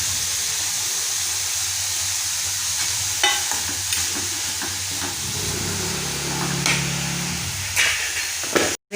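Carrot and onion samosa filling sautéing in a pan, a continuous close sizzle and hiss broken by scraping stirs and a few clinks, with no talking.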